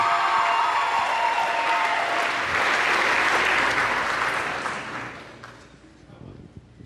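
A pageant audience applauds the queen at a dairy festival, a loud, dense burst of clapping that holds for several seconds and then tapers off, with a voice briefly audible near the end.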